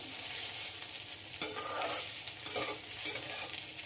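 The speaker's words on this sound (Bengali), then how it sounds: "ডিমটা দিয়ে আবারও খুব ভালোভাবে ভেজে নিতে হবে" Potatoes and egg frying together in a pan, a continuous close sizzle with stirring scrapes coming every second or so, no voices.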